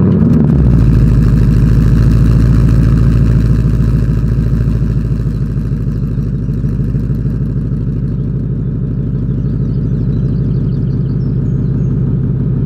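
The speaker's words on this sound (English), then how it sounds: "let's go ahead and do that exhaust clip" A 2020 Ford Mustang GT V8 exhaust rumbles loud and close, starting with a sharp burst, then holding a deep, throbbing idle with slight swells in revs.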